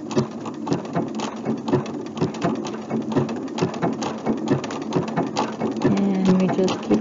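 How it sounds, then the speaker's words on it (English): A sewing machine running steadily as it sews a buttonhole stitch along the edge of a flamingo applique piece, producing a close, continuous rapid needle chatter with regular mechanical pulses throughout. "I'm going to stitch down with my buttonhole stitch now"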